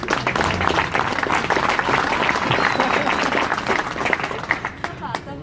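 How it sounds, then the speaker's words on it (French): Enthusiastic crowd applause at a political office inauguration in Bastia, sustained dense clapping with cheers and voices mixed in, holding steady for several seconds. "notre tête de liste, Valérie Bodge, que je vous demande d'applaudir"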